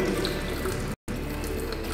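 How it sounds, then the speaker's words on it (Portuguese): Hot water poured slowly into a clogged sink drain, a steady loud rushing splash that runs continuously with one brief cutoff near the middle, no voices. "Agora vou estar jogando a água quente lentamente."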